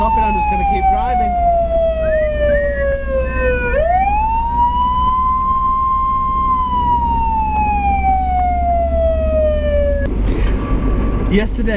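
A police car siren wails loudly nearby over road noise from a moving car, its tone sliding down, jumping up and gliding slowly lower before breaking off into a short burst of other noise.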